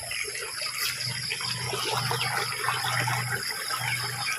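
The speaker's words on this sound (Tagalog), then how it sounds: "Lakas ng tubig." Strong, steady rush of water flowing from a dug well after heavy rain, continuous and close, with no pauses.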